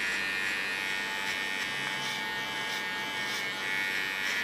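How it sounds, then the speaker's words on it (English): An electric hair clipper buzzes steadily while cutting hair on a man's head during a makeover, a close, continuous whirr with slight surges as it moves through the hair, no talking. "And this by combing with my clipper. Leaning on the under part of the clipper."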